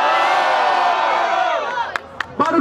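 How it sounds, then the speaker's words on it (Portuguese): Crowd at a Brazilian rap battle roars and shouts during an audience vote, a loud sustained wash of cheering that thins out near the end into a few scattered whoops and yells. "Barulho pra quem gostou das rimas do Crio."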